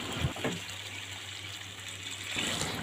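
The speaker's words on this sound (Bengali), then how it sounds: "পানি দিয়ে দিলাম।" Water is poured into a pot of fried rice for bhuna khichuri, making a brief, soft, steady gushing hiss up close that swells slightly at the end.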